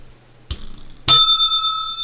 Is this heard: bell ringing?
yes